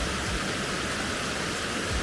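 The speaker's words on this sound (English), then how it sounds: "Back at the waterfall now" Waterfall on the Ben Nevis hike in Scotland, a steady broadband rush of falling water that fills the whole stretch, close and even with no break or variation.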